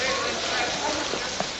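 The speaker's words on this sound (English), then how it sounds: "It's raining." Steady rain pours down with a dense hiss in a 1941 film scene, continuous and fairly loud, with a faint voice or two under it.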